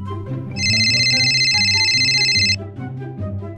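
An electronic phone ringtone from the game Sakura School Simulator rings steadily for about two seconds as a bright, sustained tone over continuous background music.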